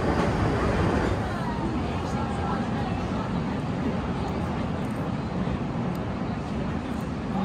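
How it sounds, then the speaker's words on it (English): A train rumbles steadily past nearby, a continuous loud roar of wheels on rails with faint rhythmic clatter throughout. "It's a train."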